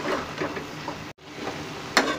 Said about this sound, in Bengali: দেবার পরে আবারও নেড়ে চেড়ে মিশিয়ে নিচ্ছি